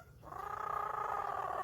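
A pet parrot imitates a cat with a single sustained, nasal, wavering meow that rises quickly and holds for over a second, close and clear with no other voices.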